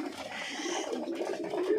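Pigeons coo softly inside a pigeon farm where birds nest and roost in the ceiling, a faint low murmuring call repeating over quiet background hum.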